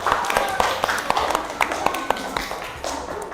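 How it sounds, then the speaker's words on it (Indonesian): Classmates in a school classroom applauding a student: a light, uneven patter of hand claps with sharp individual taps, fairly close, with voices speaking over it. "beri tepuk tangan yang meriah untuk Untung."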